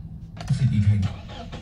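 A 2013 Toyota Ventury 2.7G petrol engine cranks briefly and catches, settling into a low idle rumble, close by, with a few clicks and small noises around it.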